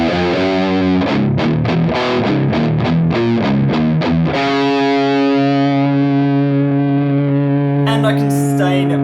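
Distorted electric guitar played through a Behringer NR300 noise reducer gate: choppy strummed chords, then a long sustained ringing chord that holds steady before a brief scratchy burst, loud and close with no talk.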